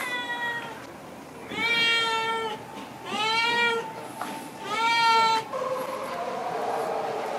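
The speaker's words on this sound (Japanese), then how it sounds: "猫がいる。" A cat on a night street in Hirara, Miyakojima, Okinawa, gives three loud, drawn-out meows in close succession, with quiet street ambience between them.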